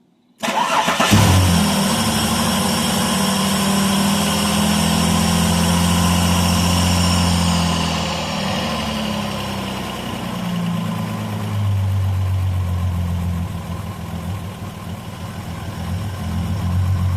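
A Holden VS with a supercharged L67 V6 starts up and settles into a loud, steady idle, its low rumble and blower whine sustained close by, dipping slightly as the idle readjusts.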